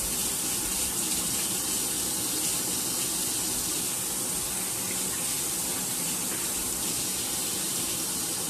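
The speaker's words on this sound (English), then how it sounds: "Wash my hands here." Hands being washed under a running kitchen tap, a steady close rush and spray of water that holds at an even level throughout, with no talking.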